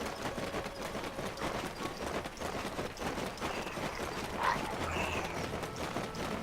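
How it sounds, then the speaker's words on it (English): Horse hooves clip-clop at a running pace in Black Desert Online, a steady rhythmic patter over a faint game backdrop, moderately quiet with no talk. "So this is a good time for me to show the horse."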